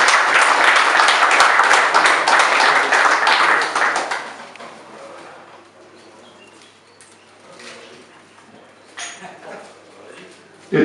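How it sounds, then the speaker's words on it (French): Guests give loud applause for a couple celebrating their 50th wedding anniversary, dense clapping for about four seconds that then drops away to a quiet room with scattered faint sounds. "Je pense qu'on peut les applaudir très fort"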